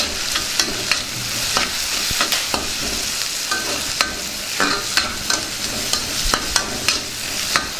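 Stirring turmeric into a frying green pea and paneer curry: a steady wet sizzle with repeated scraping strokes of a spoon against the pan, close and fairly loud, with no talking.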